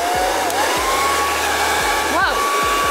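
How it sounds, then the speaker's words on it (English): A hair dryer inserted into a water bottle blows steadily and loudly close by, its whirring hum continuous throughout, with a few brief knocks and shifts in pitch. "blow dryer and let's turn it on and see what happens."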